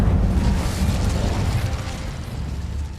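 Incendio fire spell cast in the video game Hogwarts Legacy: a loud, dense burst of fiery roar that fills the full three seconds and fades only slightly toward the end.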